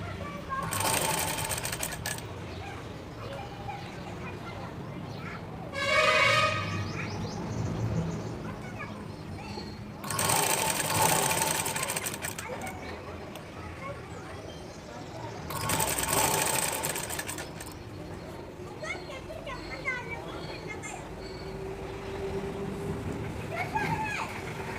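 Sewing machine running in short repeated bursts while stitching three fabric layers of a long frock, each burst a close whirring stitch run, with a person talking between them.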